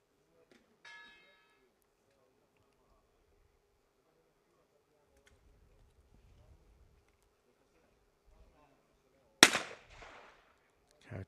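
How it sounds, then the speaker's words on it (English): A brief ringing bell tone at a para trap shooting final at the 2022 World Cup in Munich, heard early amid near silence, followed much later by a sharp, loud shotgun blast and its fading echo. "Bell rings, red flag goes up."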